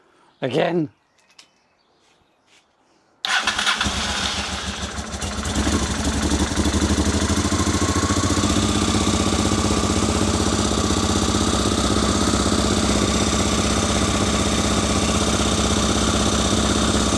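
A two-cylinder Honda Africa Twin motorcycle engine catches after a short quiet stretch, then settles into a steady, loud, fairly high idle close by.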